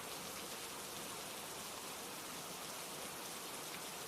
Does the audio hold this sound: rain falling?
yes